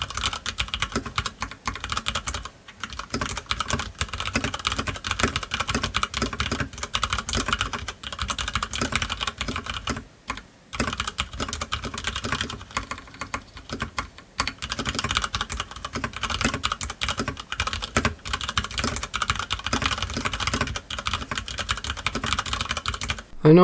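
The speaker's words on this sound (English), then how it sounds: "Speaking of the keys, this is what they sound like." Rapid, continuous typing on a Ducky Varmilo Panda mechanical keyboard, close up with dense clicking keystrokes, broken only by a couple of brief pauses.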